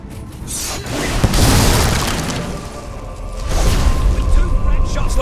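A magic spell cast in Fable 3 lands as a deep booming whoosh with a shattering burst, then a second rumbling surge follows, loud and close, with a voice talking over it.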